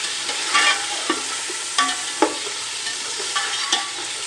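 A spoon stirs chicken pulao in a large frying pot over a lowered flame, giving scattered scraping strokes over a steady close sizzle with no talking.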